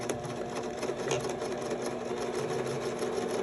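A sewing machine runs a continuous zigzag top-stitch along the edge of a six-panel welding cap, a steady fast mechanical whirr with a rapid needle clatter, close and fairly quiet, with no talking.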